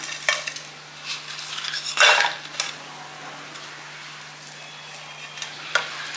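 Grated coconut and jaggery being sautéed in a pan, with a soft sizzle and occasional scrapes and clinks of a spoon stirring against the pan, fairly quiet with no one speaking.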